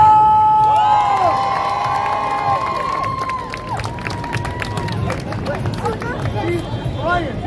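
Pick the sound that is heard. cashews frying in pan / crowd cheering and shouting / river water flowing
crowd cheering and shouting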